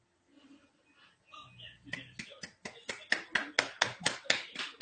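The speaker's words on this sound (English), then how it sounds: "It's a clap." Hand claps, starting with a few soft sounds and a brief voice, then a steady run of sharp, evenly spaced claps that grow louder, close to the microphone.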